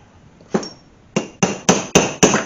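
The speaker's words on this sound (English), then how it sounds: "I use a little hammer." Six sharp metallic taps from a small hammer on a Borg Warner Super T-10 transmission, spaced unevenly at first and then coming faster, each one ringing briefly and close by.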